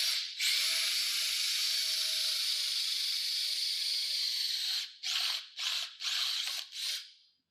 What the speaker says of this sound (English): I'm simply just going to go ahead and drill through this side first